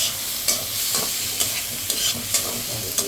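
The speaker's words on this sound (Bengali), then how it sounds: "যেখানে পটল ভাজি করে নিচ্ছি।" Pointed gourd (potol) slices fry in a pan with a steady hiss, broken by regular scraping stirs roughly every half second, close and moderately loud with no voices.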